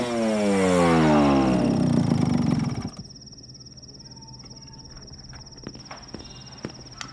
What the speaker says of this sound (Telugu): ఎందుకలా బైక్ నంత ఫాస్ట్గా డ్రైవ్ చేస్తావు?